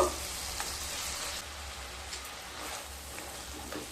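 Potatoes and tomatoes fry in a pan for a fish curry, a soft, steady sizzle with faint crackles and occasional light stirring taps, quiet and close.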